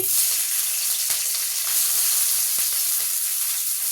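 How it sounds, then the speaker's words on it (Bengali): Onions sizzle steadily in a pan alongside winter vegetables, a dense continuous frying hiss close by with a few soft stirring knocks and no voices. "পেঁয়াজটা একটু ভেজে নেব।"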